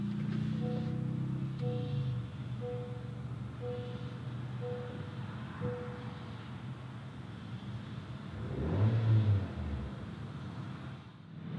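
A 2018 Honda Accord Sport started with its push button: a run of soft repeating chimes, then a brief louder burst as the engine cranks and catches, settling to a low idle.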